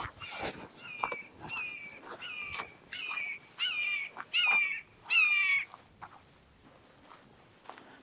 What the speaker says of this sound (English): Did you all hear that hawk screeching as it flew over?